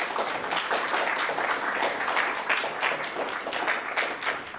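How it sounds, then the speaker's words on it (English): A crowd applauds at the end of a talk on crowdsourced Hyperloop engineering, with steady, dense clapping that is moderately loud and slightly distant and fades a little toward the end. "Round of applause for that."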